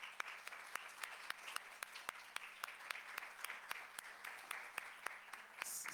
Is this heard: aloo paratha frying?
no